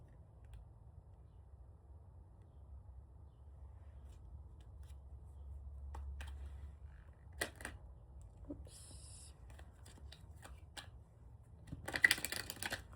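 Playing cards being handled and shuffled by hand in a quiet room, heard as soft scattered flicks and taps that build into a denser riffling burst near the end, over a low steady hum.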